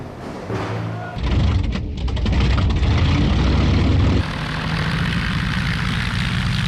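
Approaching Luftwaffe propeller aircraft over London fill the air with a heavy, steady engine drone that swells louder partway through and then holds as a dense, continuous roar.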